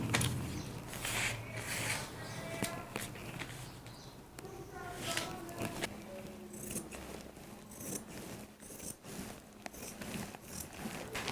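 Scissors snip through blouse cloth in a series of close, crisp cuts and rustling fabric, with a person talking quietly throughout.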